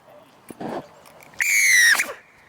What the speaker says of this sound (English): we're going to blow our whistle